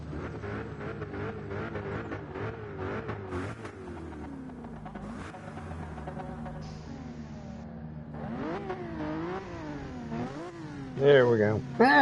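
Race car engines rev in a racing video game's Manufacturer's Cup race featuring a Ford GT and a Subaru BRZ, with engine pitch climbing and dropping through repeated shifts under near-constant talking.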